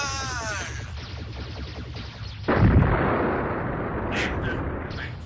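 Gunfire effect in a French sci-fi audio drama space battle, a sustained burst of rapid shots with a heavy blast surging in midway, dense and loud throughout, with no talk over it.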